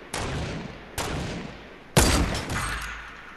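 Enemy gunfire in the Fortnite video game: three separate loud bursts about a second apart, each a sharp crack with a ringing tail, the last one the strongest.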